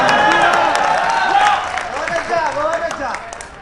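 Audience applause at a Hindi-Urdu humorous poetry recital, a dense burst of clapping from a crowd that swells and then tapers off, with a voice speaking over it.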